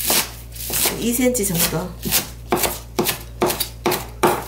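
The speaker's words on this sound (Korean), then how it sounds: "쪽파를 한점 넣겠습니다. 조금 작게 썰게요." A knife chops green onions (scallions) on a cutting board for napa cabbage kimchi, a run of crisp, close chops in an uneven rhythm. Someone speaks briefly between the cuts.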